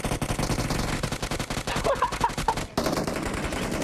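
Rapid automatic gunfire in the mobile battle royale game PUBG Mobile, a dense run of close, sharp shots that breaks off sharply near the end before firing resumes.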